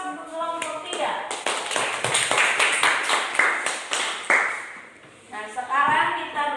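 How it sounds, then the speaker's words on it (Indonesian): Classroom clapping for a student group after their presentation, a series of sharp, distinct claps from a small group with talking mixed in, pausing briefly before voices resume. "kita beri aplaus untuk kelompok 3"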